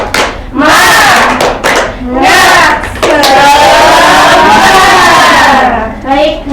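A primary school class shouts a rhythmic spirit chant together with clapping, loud and close, in repeated bursts of many young voices led by a teacher.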